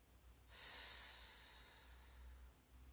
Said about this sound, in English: 2 more deep breaths